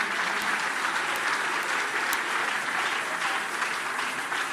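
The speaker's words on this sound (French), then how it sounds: "Ah, acclamez très fort pour le Seigneur." Church congregation claps loudly and steadily at a worship service, a dense close applause holding without break for several seconds.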